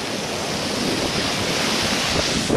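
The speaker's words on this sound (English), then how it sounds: "Even a bigger wave now." Ocean waves crash on a windy shore, a continuous loud, hissing surf roar mixed with wind buffeting the microphone, steady throughout with no speech.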